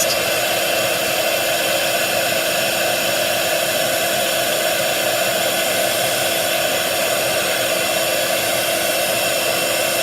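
A heat tool blows continuously and loudly, a steady roaring whoosh drying glimmer paste in a craft setting, close up and alone for the whole stretch without any talk.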